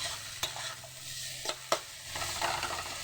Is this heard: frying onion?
yes